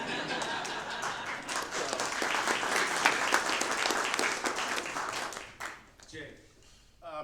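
A breakfast audience at a local development event gives steady, moderately loud applause for several seconds before it tapers off, followed by brief talk.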